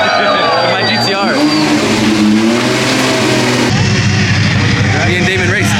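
A twin-turbo V12 Ferrari race car starting up and revving very loudly nearby, with rising and falling engine pitch, and people talking over it.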